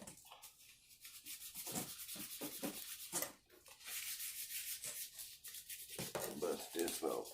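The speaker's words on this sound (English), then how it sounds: "Bust this off with a little sand job real quick." A corner rubbed down by hand with sandpaper, a steady scratchy rasping in short strokes up close, with brief pauses and some talk over it.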